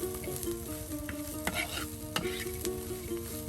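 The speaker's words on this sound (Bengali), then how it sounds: "পেঁয়াজ দিলাম আর চিংড়ি মাছ। চলো সব একসাথে আবার ভেজে নেওয়া হচ্ছে" Onion and shrimp frying together in a pan, a steady close sizzle with spoon stirring and occasional scraping knocks against the pan, no talk.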